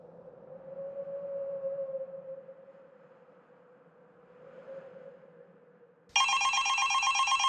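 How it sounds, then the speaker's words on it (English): A telephone bell bursts into loud, rapid electronic ringing at 5:30 in the morning, cutting sharply in after a low, droning musical hum. "The phone rang, and it was 5:30 in the morning."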